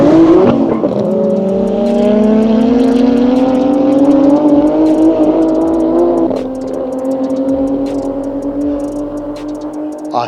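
A Toyota Supra racing against a 700 hp Nissan Skyline, Mazda RX7 and Nissan Silvia, its engine droning loud and close with a rising, steady pitch as it pulls through the run.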